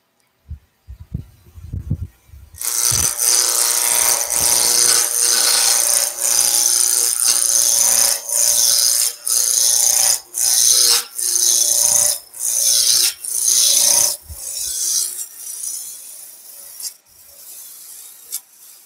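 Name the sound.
wood lathe turning with a roughing gouge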